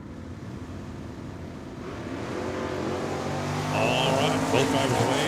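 A Chevrolet Chevelle and a Ford Mustang leave the start line in a drag race at Tucson Dragway, their engines swelling from a low rumble into a loud, steady roar with a high whine near the end, while voices talk in the background.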